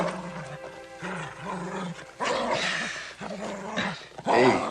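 A dog growls and grumbles in rumbling, uneven bursts at close range, louder toward the end, with no talking.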